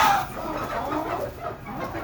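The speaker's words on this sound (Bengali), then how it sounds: "ওই দুটা কোচা মুরগি" Broody hens squabbling and fighting while eating paddy grain, with steady close clucking and agitated hen calls running throughout.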